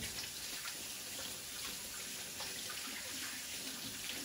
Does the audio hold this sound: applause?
no